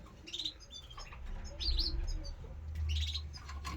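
Gloster canaries chirp in short bright bursts, with cooing pigeons nearby and a low rumble of room noise underneath; the calls come in several clusters through a shop setting.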